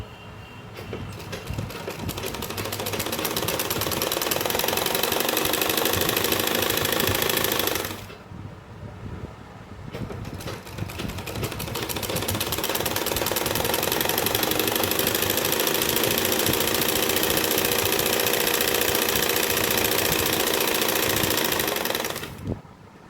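A sewing machine stitches soft, stretchy plazo pant fabric in a fast, steady mechanical whir. It runs close and loud, stops briefly for a couple of seconds, then resumes at the same pace.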